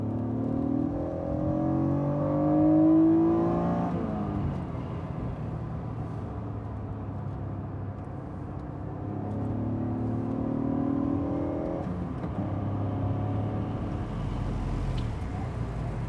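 A Honda NSX sports car accelerating hard, its engine note climbing through two rising runs with a gear change between them, steady and fairly close throughout with no talk over it.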